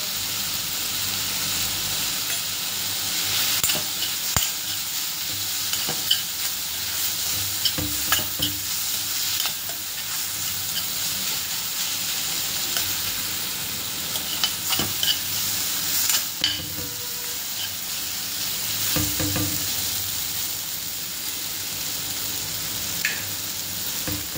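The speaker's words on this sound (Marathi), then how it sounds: "कांदा टोमॅटो छान परतून झाला" Onion and tomato sauté in a hot pan with turmeric and red chili powder, giving a continuous close sizzle with intermittent scraping stirs and a few louder clanks throughout.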